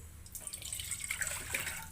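Water is poured into a vessel for heating in a home kitchen, a short, soft trickle and splash at moderate distance with no talking.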